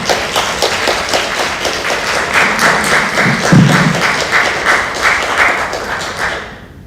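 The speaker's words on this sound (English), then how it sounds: "give them another round of applause" An audience at a distracted-driving safety forum claps in a dense, steady wash of applause that holds for several seconds before tapering off at the end.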